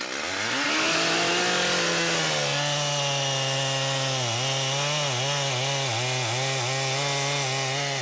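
A chainsaw fells a large, roughly 30-metre okoume tree in a Gabon forest. The engine climbs to a loud, steady whine, then bogs and recovers in repeated dips as the chain cuts into the wood.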